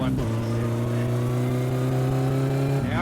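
An engine in My Summer Car revs up and holds a steady, loud droning pitch for a few seconds before dropping off at the end, close and sustained beneath a low background.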